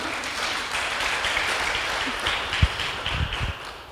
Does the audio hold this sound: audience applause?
yes